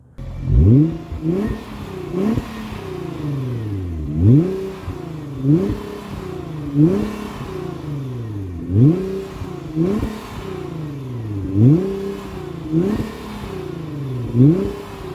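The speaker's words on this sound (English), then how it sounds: "this is a titanium exhaust through and through. Now, one thing people complain about is that the exhaust tone is quite tame" A Nissan GT-R 50th Anniversary Edition with a full titanium exhaust revs repeatedly, rising and falling in roughly a dozen throttle blips with a fairly mellow, restrained exhaust note and brief pauses between.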